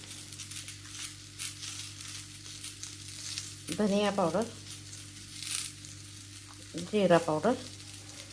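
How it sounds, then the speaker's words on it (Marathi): Sliced okra (ladyfinger, bhindi) frying in oil in a pan, a continuous soft sizzle under a voice talking in two short bursts. "भेंडी भाजायला लागली"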